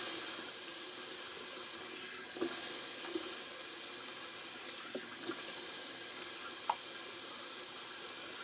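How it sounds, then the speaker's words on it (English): Tap water runs steadily into a sink as a face is rinsed after a wet shave, with a few brief splashes and knocks breaking the constant hiss. "Let me just rinse off the face."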